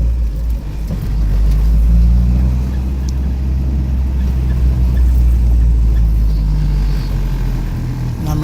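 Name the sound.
1997 Acura Integra engine idling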